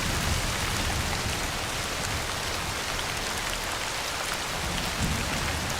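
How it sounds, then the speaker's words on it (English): Heavy rain in the Way of the Hunter 2 hunting video game hisses as a dense, continuous patter, loud and steady like hail on a surface, with no talk. "Sounds like hail."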